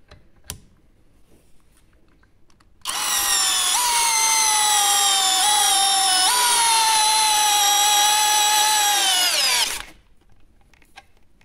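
A Parkside PBSPA 12 C3 brushless cordless drill in first gear drives a large coarse-thread 8 x 80 screw into a pilot hole, a loud sustained whine lasting about seven seconds, pitch sagging under load before stopping abruptly.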